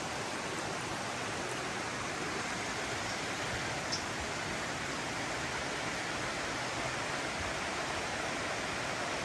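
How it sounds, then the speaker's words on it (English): Small waterfall spilling beside a river among mossy rocks on a forest hiking trail, a steady, even rush of falling water close by, unbroken for the whole stretch with no voices. "tiny little waterfall"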